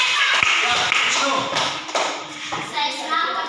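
A classroom of schoolchildren claps hands in quick, dense bursts, with some scattered taps, thuds and brief young voices mixed in.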